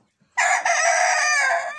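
A rooster in a chicken coop gives one loud, drawn-out call close by, sustained for over a second and rising abruptly out of quiet.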